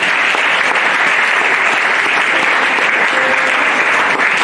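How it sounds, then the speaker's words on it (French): A church congregation breaks into steady, dense applause, loud and continuous throughout, praising the Lord during a sermon. "On peut acclamer le Seigneur pour ça"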